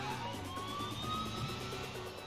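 Police car siren wailing during a chase in the video game GTA IV, a steady rising electronic tone over a continuous rumble of engine and road noise, with no talking.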